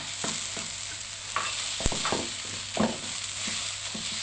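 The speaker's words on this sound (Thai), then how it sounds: "ผัดให้เข้ากันดีค่ะ ให้หมูสับสุกนะคะ" Minced pork and shallots being stir-fried in a pan, soft continuous sizzling with several sharp scraping and clanking strokes of a spatula against the pan, heard up close.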